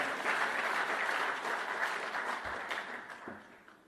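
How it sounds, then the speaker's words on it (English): Audience applause during a political speech by Netanyahu, a dense wash of many hands clapping that holds steady before thinning and fading toward the end. "you should applaud that"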